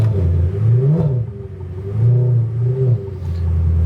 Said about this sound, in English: let you listen to that sports exhaust as I start it up